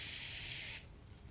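A pH probe rinsed under running tap water during a soil check, a steady close hiss of water spray that cuts off abruptly partway through, leaving quiet room tone.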